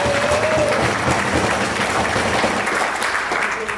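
A convention audience at the 2021 Libertarian Party gathering breaks into full, steady applause, thick and continuous from start to finish, with a faint murmur of voices mixed in.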